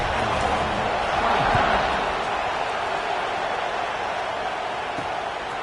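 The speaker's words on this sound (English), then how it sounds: "this crowd is buzzing after that last score" A football stadium crowd buzzes after a touchdown, a broad, steady roar of many distant voices that holds fairly even throughout, swelling slightly early on.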